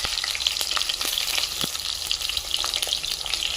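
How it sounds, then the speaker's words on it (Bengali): Eggplant pieces frying in hot oil, a dense, loud crackling sizzle that carries on steadily throughout with occasional sharper pops, close up and with no voices. "এই যে বেগুন দিয়ে দেবো আগে তেলে, কাঁচা গন্ধটা চলে যাবে আগে তেলে গরম বেগুন দিলে"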